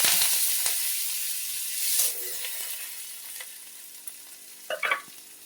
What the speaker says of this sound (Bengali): পেঁপে পাতলা পাতলা করে কেটে রেখেছি, পেঁপেটা দিয়ে দিচ্ছি।